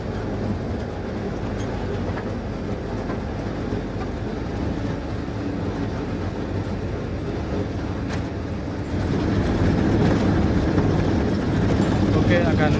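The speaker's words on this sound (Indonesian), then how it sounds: "sekarang saya berada di kabin lokomotif nomor 2 dan di depan itu adalah lori kosongan yang ditarik oleh lokomotif nomor 6" A sugar mill lori locomotive rumbles steadily from inside its cabin, a low continuous engine drone that grows slightly louder and busier toward the end, with no voices.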